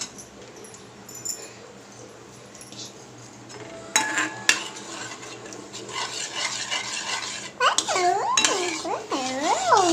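A cup of milk being stirred into a nut health drink in a vessel, with soft swirling and sharp spoon clinks against the container, followed near the end by a series of high whining, whimper-like sounds.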